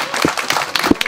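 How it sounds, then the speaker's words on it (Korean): Applause from the crowd at a party members' meeting, a brief, loud and dense patter of clapping filling the whole moment. "뜨거운 박수"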